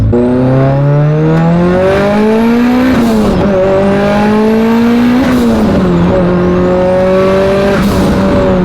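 A tuned Mitsubishi Evo on pump gas launches hard on very wide tires, revving and climbing through gears with a loud, rising roar, shifting repeatedly, wheelspin noise faintly under the strain, close and continuous.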